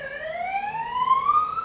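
An outdoor police siren wails in the background, one steady upward sweeping tone heard at moderate distance over light ambient noise.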